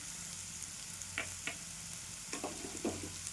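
Ridge gourd pieces being sautéed in a pan, with a soft steady sizzle under several short scraping stirs of a spatula, close and fairly quiet.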